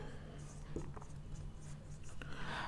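Chalk or marker scratching on a classroom board during a maths lesson on sets, short strokes in a brief burst over a steady low hum, with faint speech murmuring underneath.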